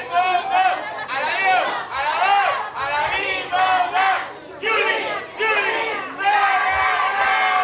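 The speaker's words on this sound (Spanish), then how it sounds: "Fuerte los aplausos. Ya se están animando más." A crowd at a presentation event shouts in loud, rhythmic unison bursts, like a group cheer, close and energetic throughout.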